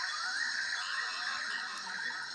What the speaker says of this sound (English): that sound you're hearing is like dozens of different species of frogs all calling together